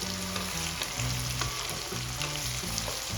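Tomato and onion sauté together in a pan for street-style pav bhaji, making a loud, dense, continuous sizzle with the low rattle of stirring underneath and no talking.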